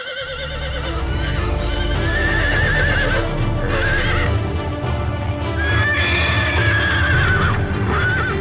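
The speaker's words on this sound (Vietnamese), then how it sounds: "lũ ngựa rất nghe lời con" Horses neigh and whinny loudly in an animated film, several shrill calls rising over steady clip-clopping hooves and a low rumbling background throughout.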